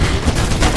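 Dense, loud gunfire in the video game Mirror's Edge, an enemy shooting in a continuous close burst that fills the whole moment.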